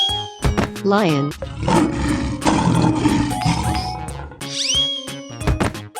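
A lion roars in a 3D animal sliding game, amid other game animal calls, bright electronic effects and excited talk, with a loud sweeping cry near the start and another near the end.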